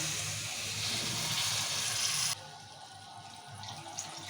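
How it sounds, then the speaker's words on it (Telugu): Water pours in a steady, rushing stream into a mixer grinder jar for about two seconds, then cuts off abruptly, leaving a quieter hiss and faint trickling. "ఇప్పుడు వాటర్ పోతాం ఇక"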